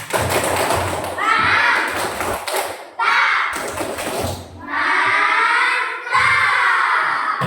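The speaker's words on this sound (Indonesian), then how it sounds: "Beri tepuk mantap untuk Putri." A classroom of children claps a rhythmic patterned applause for a classmate, loud bursts of clapping and shouted chant separated by short pauses, with children's voices mixed in.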